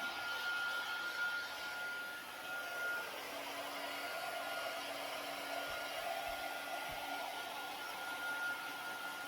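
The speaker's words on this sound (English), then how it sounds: "I'm an impatient crafter, so I always have my heat gun with me to speed things up" A heat gun blows steadily at close range, drying paint on a book, with a continuous whooshing hum and a faint whine throughout.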